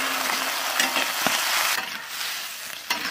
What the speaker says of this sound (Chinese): 加点油哈，龙虾放进来炒一下哈